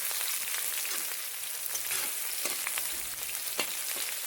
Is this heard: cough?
no